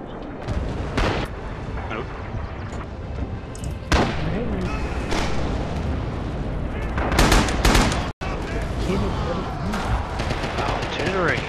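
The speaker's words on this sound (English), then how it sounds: "Artillery." Artillery and gunfire in the battlefield game Red Orchestra 2, repeated sharp booms and bursts over a constant din of combat, with people talking over it.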